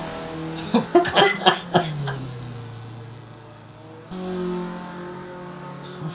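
Formula Ford race car in a racing video game at Sandevoerde: several sharp engine rev bursts in quick succession, then a steady droning engine note that shifts in pitch midway, fairly close and alone with no talk.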